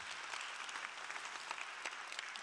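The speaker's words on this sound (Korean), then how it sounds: "박수 한번 좀 드리도록 하겠습니다" Applause from an audience at a church youth event, many hands clapping in a steady, fairly soft patter that holds throughout without talk.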